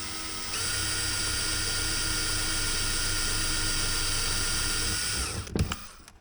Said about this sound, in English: you want to drill for a few seconds and then pull your drill out while you're running it